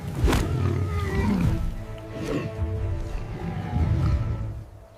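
A lioness on the African savannah gives deep, rumbling roars and growls, loud and close, rising in several bursts across the moment with no talk.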